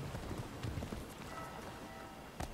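Horse hooves clip-clop quietly in the video game Assassin's Creed 3, with a few scattered steps under faint background ambience. One sharper hoof strike lands near the end.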